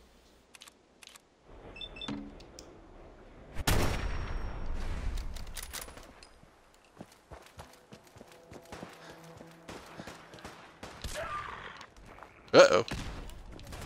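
Gunfire from Fallout 4 during a Super Mutant attack at Hangman's Alley: scattered sharp shots and bursts at varying distances, with a player's voice speaking briefly between them.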